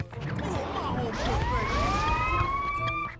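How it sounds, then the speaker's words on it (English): Police sirens in the AND 1 Streetball video game wail with rising and falling tones over crowd noise and game sounds, mid-loud and continuous. "Okay, the goddamn police sirens"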